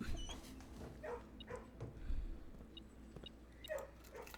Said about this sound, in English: We can pet the pup.